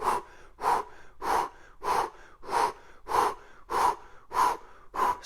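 Nine rhythmic, forceful breaths, close and evenly spaced about every half second, come from someone exhaling through a home workout exercise, with no talk over them.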